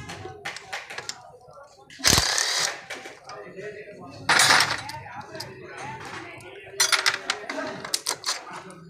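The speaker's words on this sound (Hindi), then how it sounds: "मैं सिलेंडर खोलता हूँ इसका" Metal tools clink and scrape while a Honda CG 125 motorcycle engine's cylinder is opened, with sharp bursts of clatter and knocking between quieter handling noises, close up and fairly faint, with a voice speaking at times.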